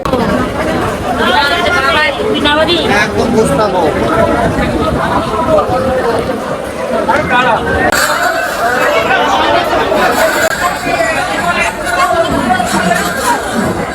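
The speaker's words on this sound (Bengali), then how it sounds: "ভাই এত ভিড়" Dense crowd chatter and murmuring voices fill busy Howrah railway station, a steady loud babble of many people close by with no single voice standing out.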